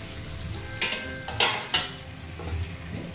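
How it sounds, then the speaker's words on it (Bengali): Fried pieces of elephant foot yam drop into a gently bubbling curry in a home kitchen pan, giving three sharp splashes and sizzles over a low steady simmer, with no talking. "দেখুন অল্প অল্প ফুটছে, তখন আমি এই যে আমি ভেজে রাখা ওলগুলো দিয়ে দেবো।"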